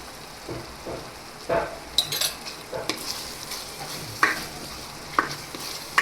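Yogurt is spooned into a pan of cooking fresh turmeric vegetable dish. Soft sizzling runs under irregular stirring scrapes and a few sharp metal spoon clinks against the pan, close by and with no voices.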